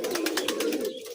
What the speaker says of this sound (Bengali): এটা লাল পায়ের কবুতর, হ্যাঁ মুসলদম বলে।